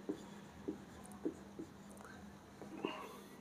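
Pen on paper, quiet, close handwriting: light scratchy strokes and soft taps in an irregular rhythm, with a faint low hum underneath.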